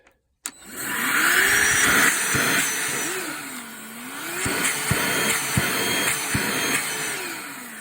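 A DeWalt DCV501H cordless vacuum switches on abruptly and runs with a steady, loud whine close by, its pitch wavering slightly, with a few soft knocks and handling bumps as it moves.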